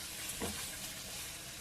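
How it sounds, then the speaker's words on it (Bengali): Soybean chunks stir-fried in oil in a pan for chowmein, giving a steady soft sizzle with a brief stirring scrape near the middle, close and fairly quiet, with no voices. "সয়াবিনগুলো দিয়ে এবার আমি ভালো করে কষিয়ে নেব এটাকে।"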